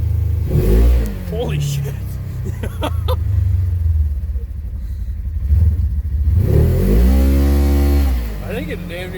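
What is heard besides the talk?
Polaris General UTV accelerating with tuned clutch and ECU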